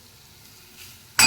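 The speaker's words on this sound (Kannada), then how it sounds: "ಒಂದು ಸ್ವಲ್ಪ ಒಣ ಕೊಬ್ಬರಿ ಹಾಕಿ ಚೆನ್ನಾಗಿ ಫ್ರೈ ಮಾಡ್ಕೊಂಡ್ಬಿಡ್ತೀನಿ" Coriander seeds, cumin, sesame seeds and urad dal hit hot oil in a pan, with a faint quiet stretch followed by an abrupt, loud burst of sizzling at the end.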